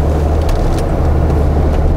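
Police patrol car pulling out into traffic, its engine and tires giving a loud, steady low rumble from inside the cabin, with faint passing swishes of other vehicles.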